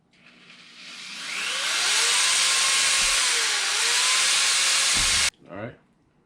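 A power drill drives a screw through PVC pipe for a crappie rod holder build, a loud whirring run of about four seconds with pitch wavering under load, then stopping, followed by someone speaking.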